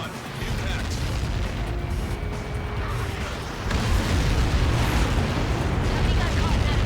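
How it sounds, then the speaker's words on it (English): A deep rumbling blast from an explosion in the flight combat game Ace Combat 7 rolls on as a sustained low roar, swelling louder partway through. "He got caught in that explosion."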